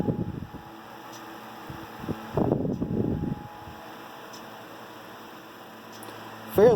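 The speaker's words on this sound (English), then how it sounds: "Fairly smooth fan" A restored vintage Westinghouse LivelyAire 10LA 10-inch oscillating desk fan with polished aluminum blades runs with a steady, soft hum and low whirring, joined by a few brief bursts of rumbling handling noise and a slight rise near the end.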